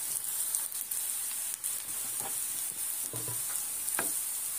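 Onion and vegetables sizzle while frying in a pan for a beef stew, with a steady hiss and a few soft stirring scrapes, no voices.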